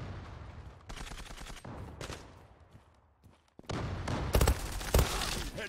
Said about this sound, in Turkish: Ben Mp7 ile oynuyorum